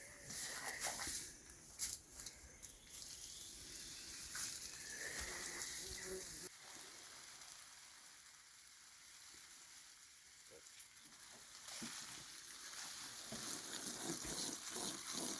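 Water trickles and hisses softly onto garlic bulbs in a no-dig compost bed, a faint, continuous shower that thins out partway through and then picks up again.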